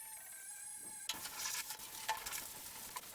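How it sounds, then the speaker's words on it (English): Welding new floor pans into a 1957 oval-window Volkswagen Beetle: after a second of quiet hum, a steady, close sizzling crackle begins, punctuated by small pops and snaps. "Now we can weld."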